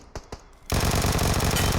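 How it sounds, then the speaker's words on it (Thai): Two sharp distant shots crack over quiet in PUBG Mobile, then a loud continuous burst of rapid automatic gunfire takes over, rattling steadily to the end. "แต่ว่าเสียงปืนเนี่ยอยู่ไกลนะ"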